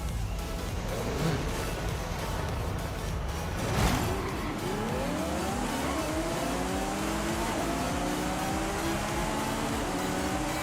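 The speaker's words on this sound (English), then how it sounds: "V12 does sound good." A V12 engine in Forza Horizon 5 revs up through climbing gears, its rising harmonic whine sweeping upward after a brief burst, loud and steady under faint background game noise.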